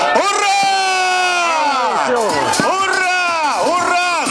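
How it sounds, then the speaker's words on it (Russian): A close, loud crowd cheers the New Year 2020 fireworks salute with sustained, overlapping voiced shouts and whoops that rise and fall in pitch. "Давайте сделаем дружные продолжительные аплодисменты нашему салюту."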